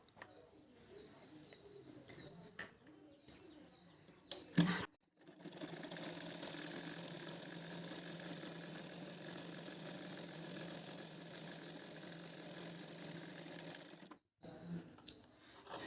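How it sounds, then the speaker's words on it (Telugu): A sewing machine stitches cloth for a girl's lehenga blouse, running in a steady, close mechanical whir for about nine seconds after a few short starts and handling noises, then stopping briefly before starting again. "పైన ఒక కుట్టేయండి."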